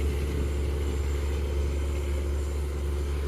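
A big fishing boat, Kadalmuthu, has its engine running at the Chettuva estuary mouth. It gives a constant, heavy low-pitched hum and throb that stays level and close throughout, with no voices.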